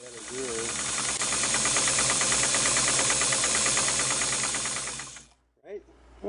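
A Singer 327K sewing machine runs after its cam stack gears are greased, giving a loud, even, rapidly pulsing mechanical whir with hiss for about five seconds before stopping suddenly, followed by a couple of small handling sounds.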